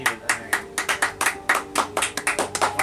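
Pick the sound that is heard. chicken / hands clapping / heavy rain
hands clapping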